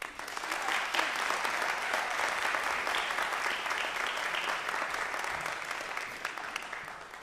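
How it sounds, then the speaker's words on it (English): An audience applauds to welcome a jazz improvisation class onto the stage at a concert, steady sustained clapping from a full crowd lasting throughout. "Please give a welcoming applause to the Jazz Improvisation Class of"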